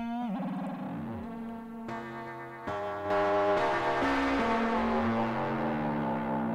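The Cinematic Alpha synth sounds sustained tones with swooping pitch bends as the modulation wheel adds FM, stepping through layered notes that grow louder and brighter midway, with no talking.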